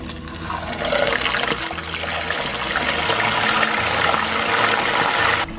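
A mojarra fish fries in hot oil over medium heat, giving a continuous close broadband sizzle with scattered crackles throughout.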